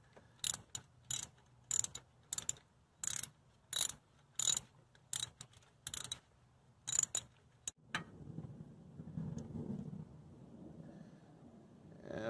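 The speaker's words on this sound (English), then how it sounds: "we've got our spark plug socket and our wrench here, and we're just going to go down in there and remove the old spark plug" Socket wrench ratcheting in sharp, evenly spaced clicks while removing an old spark plug from a Corvette C6 engine, the clicking stopping after about eight seconds and giving way to quieter rustling handling.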